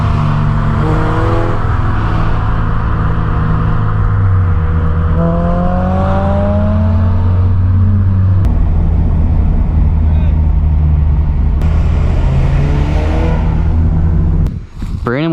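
A bagged 2022 Subaru BRZ accelerating hard in a drag race, its engine note climbing through the gears in loud rising sweeps with shift breaks, close and dominant, with voices under it.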